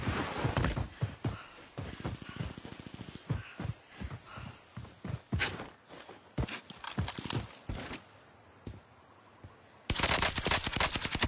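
Video game gunfire in rapid, uneven bursts of sharp shots, some automatic and some single, loud and close, with a brief lull before a dense volley near the end.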